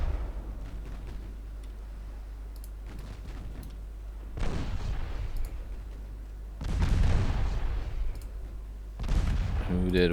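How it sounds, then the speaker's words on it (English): Torpedo hits on warships in the naval strategy game Ultimate Admiral Dreadnoughts arrive as booming, rumbling explosions, about three heavy bursts spaced a few seconds apart over a low, continuous ambient drone. "That's a couple of torpedo hits."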